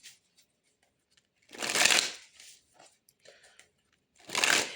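Tarot cards are shuffled in two brisk bursts with a pause between them and faint handling rustles in the gap, close and fairly loud against a quiet room.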